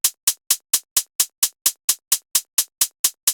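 A super tight hi-hat sample, hat number 19, for a minimal bass drop, ticking in a steady even pattern of crisp, short bright hits, fourteen in quick succession, dry and alone.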